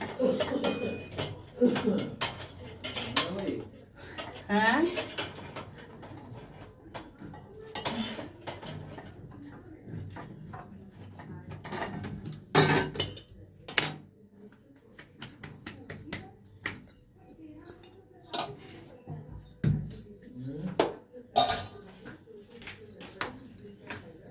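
Steel utensils and dishes clatter and clink repeatedly while rotis are cooked in a home kitchen at night, irregular metallic knocks close by, with someone talking over them.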